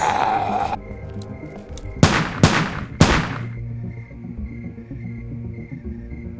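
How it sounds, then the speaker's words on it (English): Three sharp gunshots crack out one after another in Telltale's The Walking Dead, each a loud, close blast with a brief tail, set over a low game soundtrack. "those 3 gunshots that just rang out then alerted all the walkers in Crawford to their exact location"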